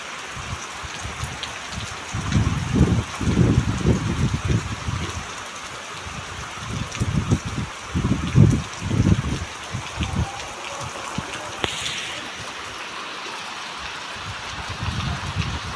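A steady downpour with running water fills a village during a yagya celebration, a constant wash of rain broken by recurring low surges of gusty noise.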